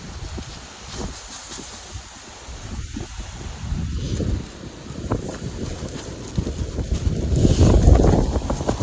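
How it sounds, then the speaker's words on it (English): Steady wind roars and buffets the microphone outdoors, gusting louder toward the end, with faint water sounds underneath. "Pretty windy today."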